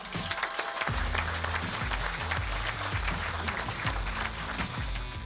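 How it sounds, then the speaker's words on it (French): Audience at an automotive design school presentation gives steady applause for students' car prototype, a dense clapping wash with a low rhythmic hum underneath throughout. "Je pense que ça mérite quelques applaudissements d'abord."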